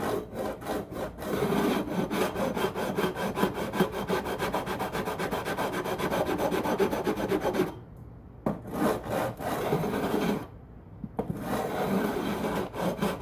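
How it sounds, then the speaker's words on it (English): A metal file beveling the fret ends on a vintage Alvarez 12-string guitar during a refret, rapid rhythmic rasping strokes close up, with two brief pauses in the stroking. "the goal here is to bevel these fret ends back on both sides"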